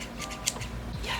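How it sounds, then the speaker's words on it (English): A new pair of pruning shears gives a crisp metallic snip, one sharp click amid faint handling noise and a brief murmur of voice. "So I finally have a new pair of shears, and I'm excited to use them."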